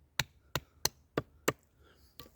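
Khukuri knife carving fine shavings from wood for a spoon: five sharp, evenly spaced chopping strokes close up, then a sixth softer one, with no talking.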